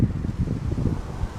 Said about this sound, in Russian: Сейчас очень сильный ветер